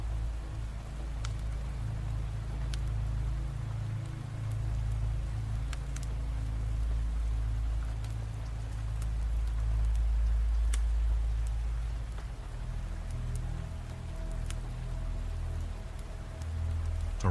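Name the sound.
rain falling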